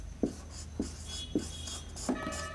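A word being written on a board, four short distinct scratchy strokes in a steady rhythm, close and quiet with a faint background hum.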